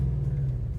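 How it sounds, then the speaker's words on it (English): A 2025 Ford Mustang GT V8 idles with a deep, steady low rumble, close and loud, with no talking. "Being a Mustang V8, it does have that growl, and you feel it the moment you just press that ignition button."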